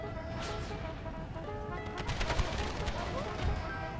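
Howitzer artillery fire in the Empire: Total War mod Brothers vs. Brothers, with repeated booming and crackling shots over a dense, continuous battle din of gunfire and noise.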